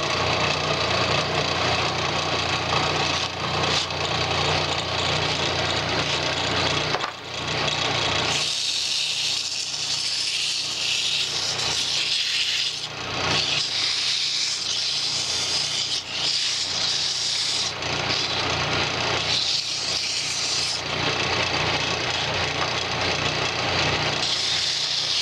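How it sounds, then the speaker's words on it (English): A wood lathe turns at low speed while 80-grit sandpaper is held against a spinning wooden carver's mallet, making a steady hissing rub over the motor hum, with the scraping growing louder in bursts. "So I'm going to put my lathe down at a low speed, and I'm just going to go ahead and start off with 80."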